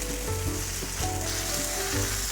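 A vegan bean sprout and carrot patty fries in a pan, giving a steady oily sizzle with faint crackling and occasional soft scrapes, no voices.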